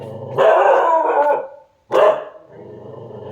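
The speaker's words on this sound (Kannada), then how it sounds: "ಸೊ ನಾಯಿ ಸಿಕ್ಕಾಬಟ್ಟೆ ಬೊಗಳ್ತಾ ಇದೆ ನೋಡಿ" A dog barking at a home where cooking is under way: a long loud bark-howl, a brief pause, then another sharp bark trailing into lower growling, close to the microphone.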